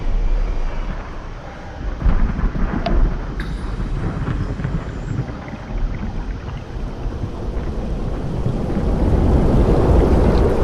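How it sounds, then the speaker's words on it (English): Rushing underwater torrents in the SOMA video game make a loud, continuous low roar that swells and churns, growing heavier toward the end, with a faint metallic knock early on. "This is the torrents I was talking about. They'll try to push me off course."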